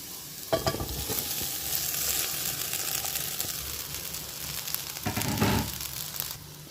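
Cooked rice stirred and fried in a hot pan for a lunch-box dish. A steady, close sizzle runs throughout, broken by two louder bursts of spatula scraping and tossing.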